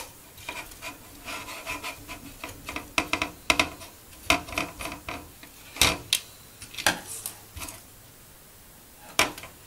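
Rubbing and rasping as plastic parts of an Atari 2600 console are wiped down, a run of scratchy strokes with sharp clicks and taps scattered through, close and fairly quiet with no talk.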